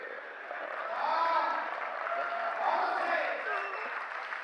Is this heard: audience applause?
yes